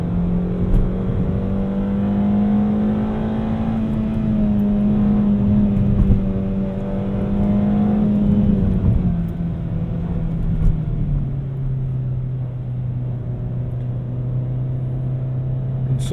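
Suzuki Swift Sport 136 engine heard from inside while driving, a steady loud drone that rises a little as the car pulls, then eases to a lower hum, continuous and without talk.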